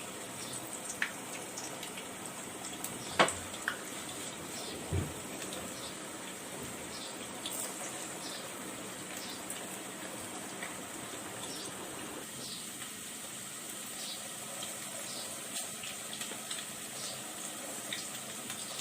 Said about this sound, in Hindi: बॉल्स ड्राई हो चुके हैं, अब इन्हें फ्राई के लिए डाल दूँ।